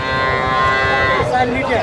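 A Sahiwal dairy cow at a cattle market gives a long, loud, close moo that holds steady for nearly two seconds amid the market's background noise.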